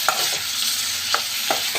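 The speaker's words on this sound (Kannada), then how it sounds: "ಸ್ವಲ್ಪ ಹೀಗೆ ಸಾಫ್ಟ್ ಆಗುವವರೆಗೆ ಫ್ರೈ ಮಾಡುವ" Tomatoes frying in a pan for a restaurant-style methi chicken masala, with a steady sizzle and several sharp spoon scrapes as they are stirred, alone and close.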